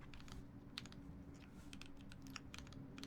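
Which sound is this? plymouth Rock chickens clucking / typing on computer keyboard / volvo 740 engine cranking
typing on computer keyboard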